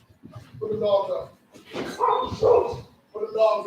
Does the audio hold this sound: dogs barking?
yes